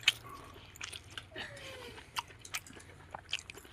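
Close-up chewing while eating rice mixed with greens, kohlrabi and fish: soft, irregular wet bites and mastication clicks, quiet and intimate, with no talking.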